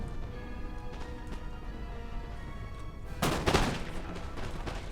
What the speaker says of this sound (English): They're going to get a volley in on these marching Foot.